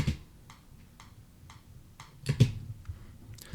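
Steady metronome clicks tick at an even pace, soft and close, followed by a louder thump and some faint shuffling.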